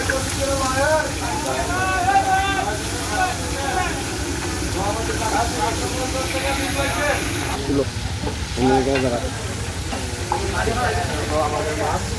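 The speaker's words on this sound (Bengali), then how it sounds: "আমাদের জন্য ইলিশ মাছ রান্না হচ্ছে।" Hilsa fish frying in a pan at Mawa on the Padma river, giving a steady broad sizzle that runs throughout under nearby voices and busy background chatter.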